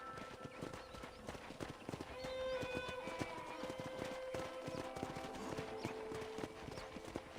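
Horse hooves clip-clop steadily and continuously while riding in the Red Dead Redemption video game, with a brief whinny partway through, close and clear over faint background ambience.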